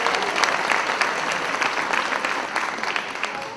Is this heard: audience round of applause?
yes